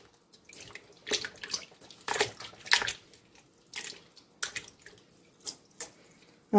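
Strawberries being washed to rinse off sand: water splashes and pours in irregular bursts, with drips and handling noises between them, close and fairly quiet, with no voices.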